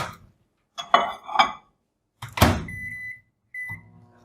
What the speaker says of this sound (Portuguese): Então vou colocar lá no micro-ondas.